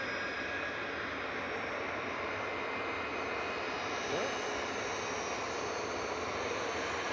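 A Ryanair jet airliner bound for Malaga takes off at Manchester Airport, giving a steady, fairly distant engine roar with a rising whine, while voices talk over it.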